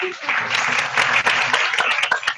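Applause from an audience at a religious study gathering in a Jain study hall in Usmanpura, a loud, steady wash of clapping lasting throughout with brief dips, voices faintly mixed in.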